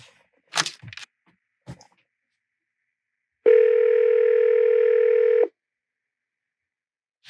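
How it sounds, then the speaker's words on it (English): A telephone dial tone over a speakerphone, a steady, loud, unbroken hum of about two seconds, preceded by a few clicks and clunks of handling, with no talk. "Oh, put it on speakerphone."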